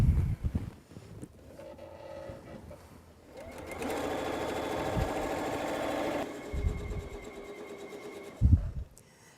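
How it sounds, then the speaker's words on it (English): A sewing machine stitches quilt wing pieces for a Flying At Night throw quilt, running in a steady buzzing rattle for several seconds, with softer starts and stops and handling bumps at either end. "And while we sew this together"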